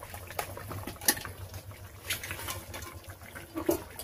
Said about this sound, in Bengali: এই যে ভেজে রাখা মাছ দিয়ে দিলাম।